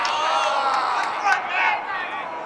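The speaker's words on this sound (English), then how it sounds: "Crowd getting involved here." A crowd at a professional match at the Salt Lake Major cheers and shouts in a sustained, lively roar, with a commentator's voice running over it.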